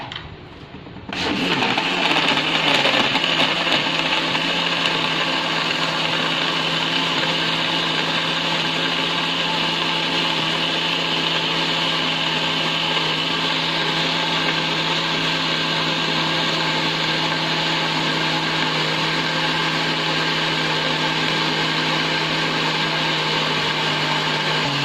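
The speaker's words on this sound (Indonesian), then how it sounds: "Blender" An electric blender whirs up after a brief start and runs steadily at high speed, blending avocado, milk, sugar and ice cubes in a continuous, even motor whine.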